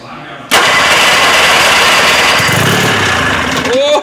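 A 1974 Johnson 440 outboard motor catches abruptly and roars into a loud, raspy, steady run after a quiet moment. Voices can be heard near the start and end.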